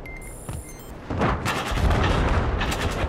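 Bursts of heavy gunfire and booming shots crash in after a quiet start, loud and dense through the rest of the clip, in a Battlefield 4 battle.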